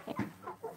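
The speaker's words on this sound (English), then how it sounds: "We now have all of our chickens in the coop" Chickens clucking softly together in a coop, a few short low clucks close by and faint, with no talking.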